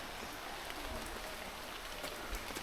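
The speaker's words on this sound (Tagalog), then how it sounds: "Malakas ang ulan." Heavy rain in the mountains near Batlag Falls, a steady broadband hiss of downpour with no breaks and no voices, heard from up close.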